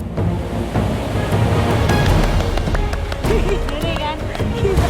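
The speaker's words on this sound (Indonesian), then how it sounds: "Ini jeramnya bener-bener gede banget." Turbulent rapids on the upper Sembakung River roar loudly and continuously, with rushing water and wind noise close to the microphone, and voices are heard over the churning.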